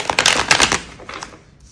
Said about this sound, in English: Not the easiest deck to shuffle.